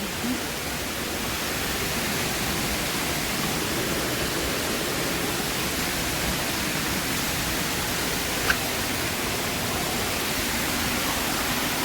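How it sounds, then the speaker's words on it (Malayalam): Water rushes in a steady, broadband hiss, like a fast stream flowing close by, unbroken from start to finish. "ഇവിടുന്ന് വെള്ളം ഒഴുകി ഇങ്ങനെ വരുന്നുണ്ടേ"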